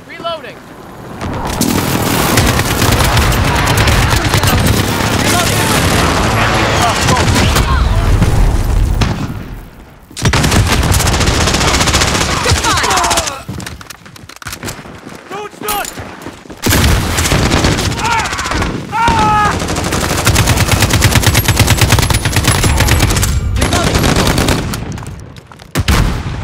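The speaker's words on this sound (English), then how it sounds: "Stop shooting at me!" Heavy Call of Duty gunfire, with automatic weapons and booming blasts filling most of the stretch in loud dense waves, broken by short lulls and overlaid by in-game voices.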